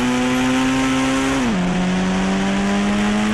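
A car engine drones steadily in the mobile game Indian Bike Driving 3D, a loud, close synthetic hum whose pitch dips briefly midway, then holds; no voices.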